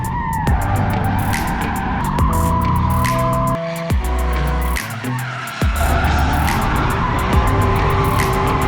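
Ford Mustang RTR drifting at a drift school, engine roaring hard and steady with long tire squeals and revs rising and dropping throughout, loud and close.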